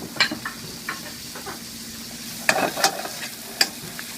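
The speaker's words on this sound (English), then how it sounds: "this is the time that I'm going to put the tomatoes in there, just a little bit tomatoes." Tomatoes go into a pan of frying ginger and garlic, with a soft steady sizzle under scattered sharp stirring clicks and scrapes of a utensil against the pan, close up and without speech.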